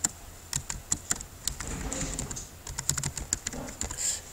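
Rapid typing on a computer keyboard, sharp close key clicks in quick bursts over a faint steady hum, no voices.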